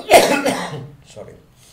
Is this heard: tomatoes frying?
no